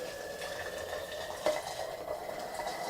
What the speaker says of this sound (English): we pour it directly into the teapot